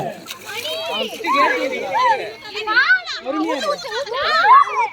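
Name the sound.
children scooping and pouring water, splashing, in a game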